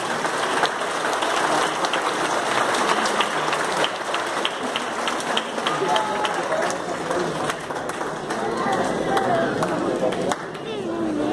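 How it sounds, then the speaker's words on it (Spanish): At a Christmas concert in a church, the audience applauds the Zaira choir with a steady, fairly distant wash of clapping, while voices murmur and talk beneath it throughout. "Un fuerte aplauso."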